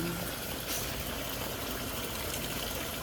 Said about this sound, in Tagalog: Ang lakas humigop ng tubig.